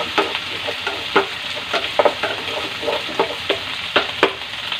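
Garlic and onion frying in a pan, a soft steady sizzle broken by repeated scraping strokes from a spoon or spatula, moderately close, with no voices.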